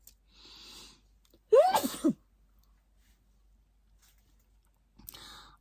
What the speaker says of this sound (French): Ah, je vais éternuer, pardon